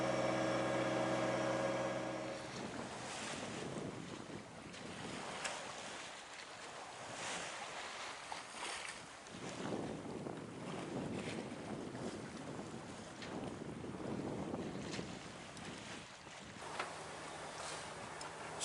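A sailboat under way off Malaysia with steady wind rushing across the microphone and waves washing against the hull, a continuous broadband roar with gusty swells and no voices.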